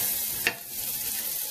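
Steady, close sizzling of food frying in a hot pan, with a single brief clink partway through.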